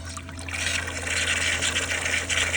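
Steady rushing and splashing of water pouring close by into a farm trough, continuous and fairly loud over a low mechanical hum.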